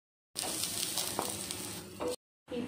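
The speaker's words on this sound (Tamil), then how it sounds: "கேரட்டை நல்லா வதக்கி வச்சு ஒரு கிண்ணத்தில் எடுத்து வச்சுக்கலாம்" Carrots sauté in a hot pan for an onion-carrot uthappam, giving a loud, steady sizzle close by that runs about two seconds, breaks off briefly, then resumes.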